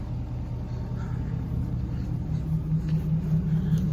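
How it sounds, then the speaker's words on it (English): A 1974 Ford 5500 backhoe cranks on its starter during a cold start, with a faulty starter wire. A steady, close, low rumbling drone holds for several seconds, and a faint humming tone rises toward the end. "we got a wire that excites the starter motor that is being a little janky."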